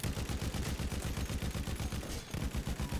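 Rapid, steady automatic gunfire from Battlefield 1, a continuous rattling stream of shots with a brief break near the end before resuming, loud and close with no talking.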